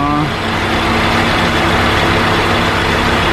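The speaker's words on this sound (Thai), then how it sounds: "อ๋อเมื่อกี้นี่คือเสียงคอมแอร์เนาะคอมแอร์มันทำงานรอบมัน" The air conditioning compressor of a 2003 Nissan Sunny Neo with a 1.6-litre petrol engine and automatic transmission runs with a loud, steady, broadband drone over a low engine hum, without talking.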